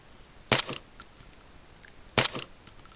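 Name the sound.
gunfire in the video game Arma 3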